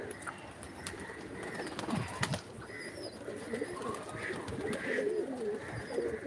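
Fantail pigeons coo softly and repeatedly at a modest distance, with occasional wing flaps as birds circle overhead against faint background noise.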